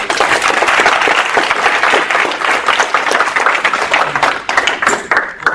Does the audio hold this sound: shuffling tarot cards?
no